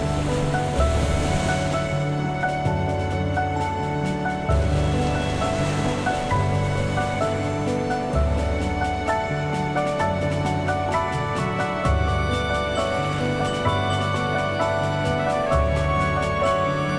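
Ocean waves at sea wash steadily and loudly under a sustained musical score, with the surf forming a constant bed and no speech.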